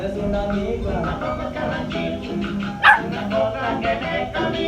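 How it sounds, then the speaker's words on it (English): A dog barks once sharply amid ongoing background noise and murmuring voices. "No barking"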